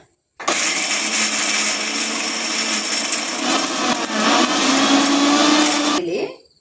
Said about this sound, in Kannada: 1/4 ಸ್ಪೂನು ಜೀರಿಗೆ, ಸ್ವಲ್ಪ ಕೊತ್ತಂಬರಿ ಸೊಪ್ಪು, ಇದಿಷ್ಟನ್ನು ರುಬ್ಕೊಂಬಿಡೋಣ